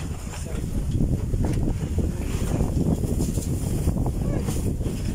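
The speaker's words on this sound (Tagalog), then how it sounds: "Lakas ng hangin mga kaisarog." Strong wind buffets the microphone in a steady, loud low rumble that carries through the whole stretch, with faint background activity underneath.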